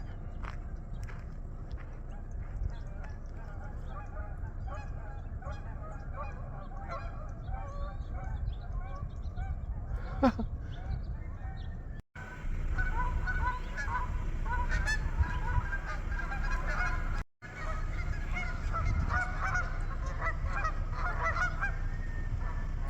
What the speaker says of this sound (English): There are geese and cranes all over the valley.